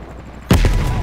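Gunfire in a Vietnam War 1968 shooter game: a sudden sharp, loud shot bursts out of low background noise, followed closely by a second report and a lingering rumbling tail.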